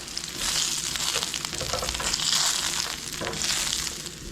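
Bacon sizzles steadily in a hot pan, a bright continuous crackle with faint utensil movement, swelling slightly in places and heard alone without talk.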